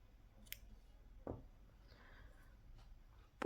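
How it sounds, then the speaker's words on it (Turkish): Scissors snip crochet yarn in a quiet room, making a few faint, isolated clicks and cuts, and a louder snip comes at the very end. "ipimi kesiyorum"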